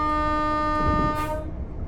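A British train's horn sounds at a whistle signal in Train Sim World, a loud, steady multi-tone blast held for about a second and a half over rumbling running noise, then cut off.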